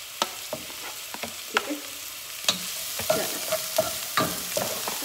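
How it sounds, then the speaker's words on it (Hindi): Chopped onion sautéing in a hot pan, a constant sizzle and crackle broken by repeated stirring scrapes and clicks of a utensil, close and fairly loud. "चलो अनियन डाल के हम इसको थोड़ा सा सौते करेंगे"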